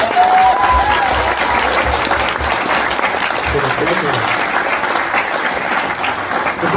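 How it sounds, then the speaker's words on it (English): A crowd at a Paultons Park presentation gives a big, continuous round of applause, loud and dense with some cheering voices mixed in. "Can we give a big round of applause to Lauren?"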